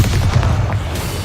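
A deep booming impact from the Descendo spell in the Hogwarts Legacy video game, a heavy low rumble that fills the whole moment, loud and close with no voices.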